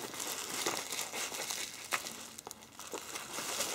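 Plastic packaging around a 1:50 scale Sumitomo SH135 excavator model crinkles and rustles in quiet, close, uneven bursts, with a few sharper snaps.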